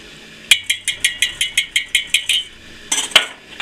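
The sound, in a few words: whisking heated milk for Greek yogurt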